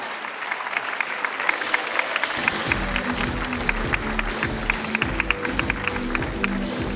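Audience applause at the FTA Prize 2021 awards ceremony, steady, dense clapping that swells in after a quiet start and continues evenly at moderate loudness.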